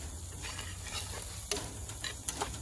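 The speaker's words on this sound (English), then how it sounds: "Beautiful sizzle coming off of this pan already." Steady frying sizzle from a pan of cheesesteak meat, with a few faint clicks and ticks scattered over the hiss.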